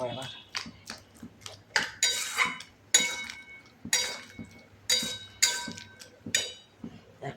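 A metal utensil scrapes and clinks against a pan while jackfruit seed poppy seed paste is stirred, giving repeated ringing knocks roughly every half second to a second, close and clear, and a voice talks in between.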